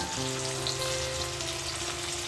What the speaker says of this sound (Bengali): পেঁয়াজ দিয়েছি আর টমেটো দিয়েছি এগুলো একটু লাল লাল করে ভেজে নেব